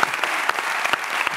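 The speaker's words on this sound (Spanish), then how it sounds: "un aplauso para esta gente" Studio audience applause on a Spanish late-night talk show, brisk close clapping from a crowd that runs steadily through the moment with sharp individual claps poking out.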